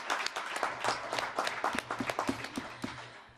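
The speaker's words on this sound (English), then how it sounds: "please join me for one last round of applause for all 6 award winners" Audience applause for award winners at a ceremony, a steady crowd of many hands clapping continuously, moderately distant and fairly quiet, with a few individual sharper claps standing out toward the end.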